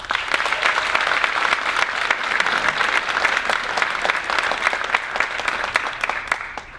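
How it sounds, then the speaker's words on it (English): An audience at a school spring band concert applauds steadily, with dense continuous clapping throughout, loud and close, tapering slightly at the very end. "Please give another round of applause for our soloists"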